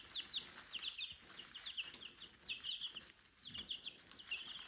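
Chickens cluck and chirp in repeated quick bursts, moderately close and fairly faint, with soft scratching and rustling underneath as the birds roam their pen.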